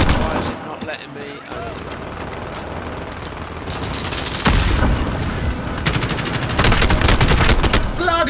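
Rapid automatic gunfire from a turret in the video game Modern Warfare, dense and loud bursts that swell and grow heavier toward the end amid other combat noise.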